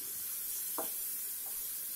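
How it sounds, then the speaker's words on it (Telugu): Chicken frying in a pan over a medium flame, a steady high sizzle with a soft stir or scrape heard once near the middle, close and fairly quiet throughout. "ఇలా 1-3 మినిట్స్ ఫ్రై చేసుకోండి."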